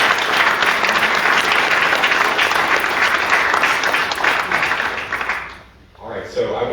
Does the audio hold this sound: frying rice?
no